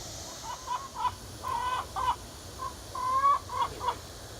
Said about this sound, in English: So I'm sure I've got some very happy chickens in here right now.